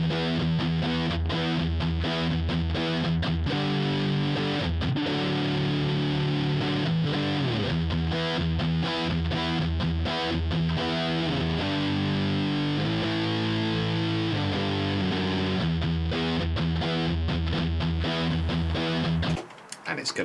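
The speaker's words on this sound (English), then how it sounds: "So we have our distorted guitar sound already recorded" An electric guitar riff recorded in Cubase plays through heavy distortion, a dense, sustained chugging figure that repeats steadily for about twenty seconds before cutting off abruptly.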